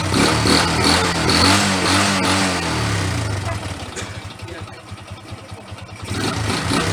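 A repaired Honda XRM 125 motorcycle engine idles close by, revving briefly and then settling into a rough, uneven putter that picks up again near the end.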